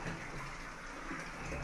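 Water poured for washing curtains with detergent, a steady rushing, gushing pour heard close and continuous for the whole moment, with no voices over it.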